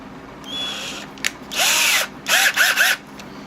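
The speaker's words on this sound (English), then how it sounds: "and I'm going to put that in my drill." A power drill with a 1/4 bit whirs in several short bursts, one longer run followed by three quick pulses, close by with quiet gaps between.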